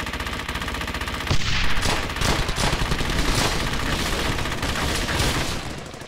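Sustained suppressing gunfire in the World War II video game Brothers in Arms Hell's Highway, a continuous loud stream of rapid shots with no pauses.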